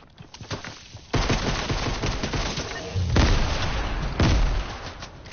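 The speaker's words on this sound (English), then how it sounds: "Oh, some grenades out there." Grenade explosions and bursts of gunfire from a multiplayer video game, loud booming blasts landing over rapid shots, with heavy detonations repeating across the stretch.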